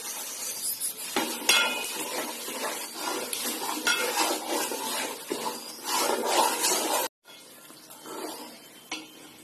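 Edible gum (gond) is added to a pan while making Adadiya Pak and fries in a steady, busy sizzle with stirring and clatter, close and continuous, broken by a brief drop near the end.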